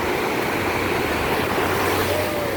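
Cold, breezy ocean waves wash steadily onto a beach as the tide comes in, a continuous broad surf roar mixed with wind buffeting the microphone, with no pauses.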